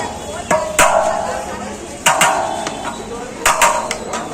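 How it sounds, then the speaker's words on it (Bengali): A few sharp knocks and scraping cuts as a sealed metal biryani pot is cut open, spaced out, with faint voices in the background. "এবার হবে কিন্তু হাঁড়ি কাটা।"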